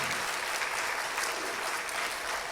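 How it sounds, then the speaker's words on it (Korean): Congregation applause during a Palm Sunday church service, a steady wash of clapping at moderate distance, fairly soft and continuous for the whole stretch with no voices standing out. "힘찬 축하 박수"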